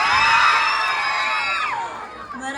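At a trans beauty pageant, a crowd shouts and screams in loud, high-pitched whoops that swell together, then taper off after a couple of seconds.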